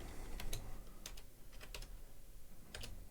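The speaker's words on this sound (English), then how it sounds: "I'll show you what I'm typing here." Typing on a computer keyboard at a day-trading desk, a close series of quick clicking keystrokes in small bursts with short pauses, alone against a low background hum.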